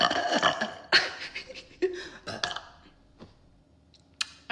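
A loud, close burp from a streamer, rough and gurgling at the start and trailing into softer throaty clicks and noises, with brief voice sounds around it.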